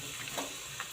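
Crushed garlic, mustard seeds and a pinch of asafoetida crackle and sizzle in hot tempering oil for a dal fry, a steady close hiss with small bursts of popping and no voices.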